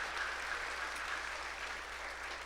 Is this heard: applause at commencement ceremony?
yes